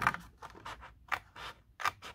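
Scissors snipping through a cardboard rectangle for a craft surprise box, a quick series of about six crisp, close cuts spaced irregularly, each a short papery crunch with no talking.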